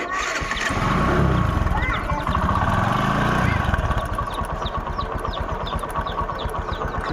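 A 2013 Hero Discover motorcycle engine idles close by with a steady rapid putter, rising briefly as the throttle is blipped early on, then settling to an even idle beat while someone talks over it.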